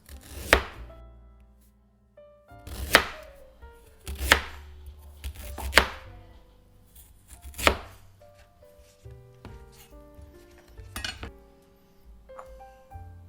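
Big kitchen knife slicing ginger on a chopping board, a slow series of loud, solid thunks spaced a second or two apart, about eight cuts in a quiet room.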